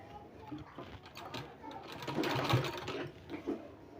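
A sewing machine stitches fabric for palazzo pants, its fast mechanical whirring rising and falling in short bursts, fairly faint and close, with a voice speaking softly underneath.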